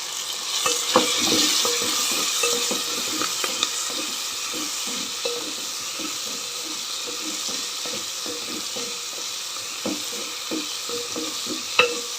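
Mint chutney ingredients, with tamarind added, fry in a pan with a steady sizzle, while a utensil scrapes and clinks against the pan in irregular strokes, close by and with no talking.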